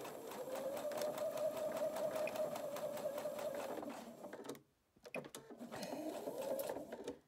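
A sewing machine stitching the seam of a scrub or welding-style cap runs in a rapid, even rattle for about four seconds, stops briefly, then starts again for another steady burst, close and clear.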